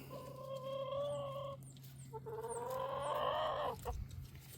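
Backyard chickens clucking close by, drawn-out tonal calls, a longer one then another after a short break, over a low steady hum with a few faint chirps.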